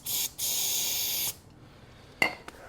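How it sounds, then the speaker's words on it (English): Brake cleaner is sprayed into the intake of a broken ATV or dirt bike engine: two loud, close aerosol hisses, a brief one then a longer burst, followed by a few small clicks and knocks. "I'm gonna spray some more brake cleaner in there,"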